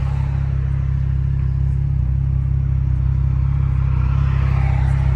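Late-night street drive in a big-turbo BMW F10, its steady mid-pitched engine drone and low rumble filling the cabin continuously, close and fairly loud with a slight rise toward the end, no voices.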